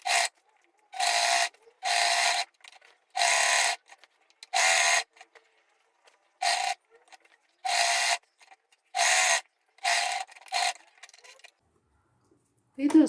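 Sewing machine stitching the side seams of a fabric water jug cover, running in about a dozen short, even bursts of steady mechanical whirring separated by brief silences.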